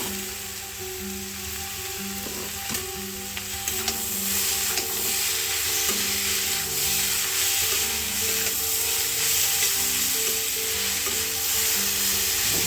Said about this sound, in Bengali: জুকিনিটা দিয়ে একটু নাড়াচাড়া করেই